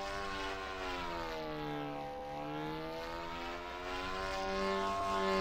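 Simulated RC plane propeller engine in the Aerofly RC 8 flight game, played in VR on a Reverb G2: a steady, buzzing whine that rises and falls in pitch with the throttle and continues unbroken and fairly loud throughout.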